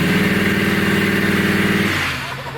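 An off-road Ford truck on a trail, stuck in two-wheel drive, holds a loud, close, droning engine rev as its tires spin, then eases off toward the end.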